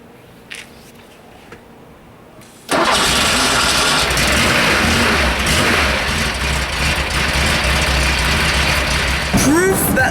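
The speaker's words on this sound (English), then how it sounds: "I'll put the camera behind the car and start the car up" A Porsche 2.7 RS engine cranks and fires after a quiet start, then settles into a loud, close idle with steady revving rumble.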